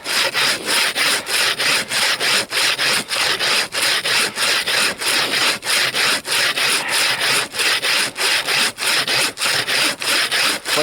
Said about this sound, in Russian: вдоль сучков выбрал, чтобы они своими силеватыми волокнами не мешали пилению